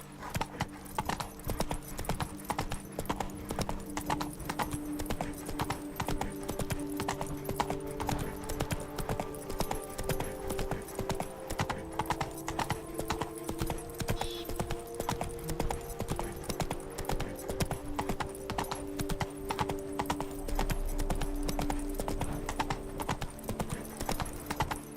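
Roach, a horse in The Witcher 3 video game, clip-clops steadily along with a continuous rhythmic hoofbeat over a bed of game music and ambience, with no talking.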